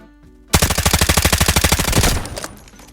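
Rapid automatic gunfire from a firearm in the Delta Force mobile video game, one sustained burst of evenly spaced loud shots lasting about a second and a half, then a fading tail.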